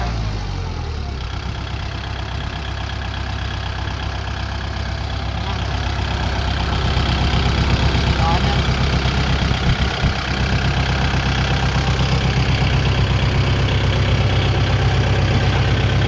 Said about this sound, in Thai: น้ำไม่ดันเครื่องไม่ไอค่ะ เครื่องแน่นเครื่องดีเกียร์ดีค่ะ